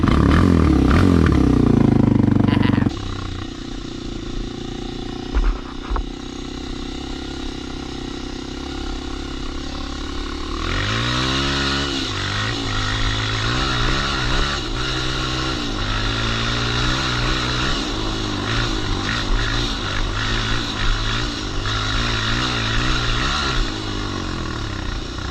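A 2022 Kawasaki KLX230R dirt bike engine runs steadily up close, a buzzing single-cylinder drone that shifts into a rising, revving tone partway through and stays loud to the end.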